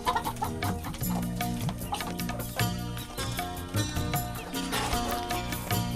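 Desi hens on a small poultry farm, clucking steadily at close range over continuous background music.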